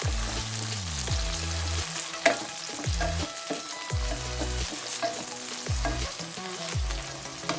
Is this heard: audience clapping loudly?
no